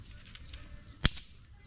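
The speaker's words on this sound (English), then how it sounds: "when firewood is dried, you hear that sound, kuk, you see?" Dry firewood knocked to test its dryness gives a single sharp, hollow crack, close and fairly loud, over a low background murmur.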